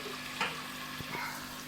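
Garlic going into browned onions frying in a pan for an aloo methi curry, a low steady sizzle with a couple of soft stirring knocks.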